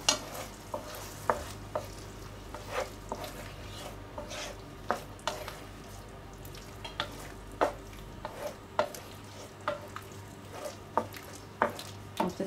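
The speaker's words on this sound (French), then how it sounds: "On va remuer." A spoon stirs turkey risotto in a pan with honey just added, giving repeated scraping, clinking strokes in a steady rhythm over a low background hum, close and fairly quiet.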